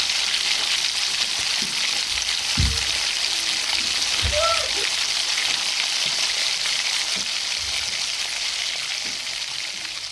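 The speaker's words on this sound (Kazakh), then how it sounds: "Жаңағы мариновкадан шыққан грудкаларымызды жақсылап тұрып осылайынан қуырып" Marinated chicken breasts fry in a pan with a steady, close sizzling hiss, and a couple of dull knocks from the pan or utensil cut through early on.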